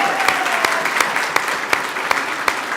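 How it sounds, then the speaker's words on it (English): Audience applause at the grand opening of the Lynnwood Neighborhood Center fills the room: steady, dense clapping from a crowd, with a few sharper claps standing out at regular intervals. No talking comes through. "We can clap for that."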